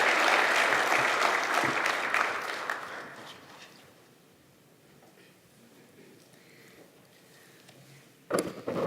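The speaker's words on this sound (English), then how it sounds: "Please, let's give a warm round of applause to Ms. Judith Morris, our president of Lambton College." An audience at a Lambton College convocation in Toronto applauds the college president, dense clapping for about three seconds that fades to quiet, then a brief sharp burst near the end.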